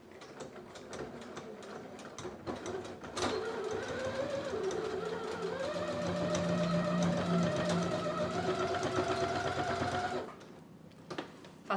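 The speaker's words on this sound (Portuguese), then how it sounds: "E agora eu vou costurar." A sewing machine runs steadily for several seconds, stitching elastic onto a towel, with a rattling mechanical whir that holds close and even before stopping abruptly near the end.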